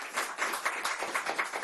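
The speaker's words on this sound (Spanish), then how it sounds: "eso merece un fuerte aplauso de todos nosotros como pueblo" An audience claps steadily with brisk, even applause at a Venezuelan gathering of the Consejo Moral Republicano in support of Maduro. The sound is moderately loud and sustained, with no voices over it.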